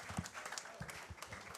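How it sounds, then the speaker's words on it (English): A small studio audience on a live sports talk show applauds a volleyball group, with scattered, uneven individual claps and a few louder close hand claps rather than a full roar. "one more time, a big round of applause for our TC volleyball group that's here."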